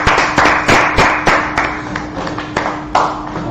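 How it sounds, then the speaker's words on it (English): A gathered crowd claps in a series of sharp, loud, rhythmic beats at a street gathering in Minneapolis, the claps evenly spaced and close by, with no talking. "Let's go ahead, clap it up"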